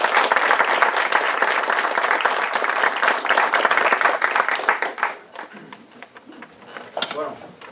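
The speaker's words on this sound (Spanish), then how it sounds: "Así que un fuerte aplauso," Audience at a debate applauding a speaker: dense, loud clapping for about five seconds before it thins out and dies away, with a voice coming in near the end.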